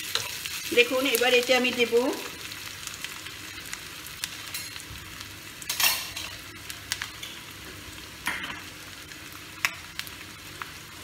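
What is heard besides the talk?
onions frying and being stirred in a pan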